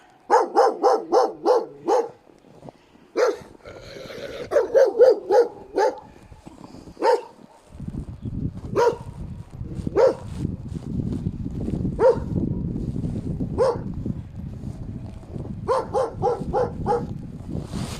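Several dogs bark in sharp repeated bursts outdoors on a snowy town street in Pechora, Komi Republic, with loud clustered barks at the start and end and scattered single barks between over a steady low rumble.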